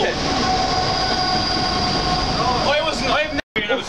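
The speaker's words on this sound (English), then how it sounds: "Is that a train?" A train rolls past close by, with loud, steady rumbling rail noise and wheel clatter filling the clip before it briefly cuts out near the end, with people talking over it.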